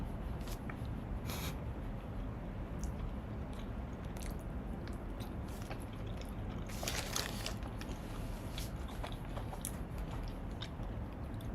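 Someone chews close to the microphone, with loud wet bites and crunches at irregular intervals over a steady low hiss.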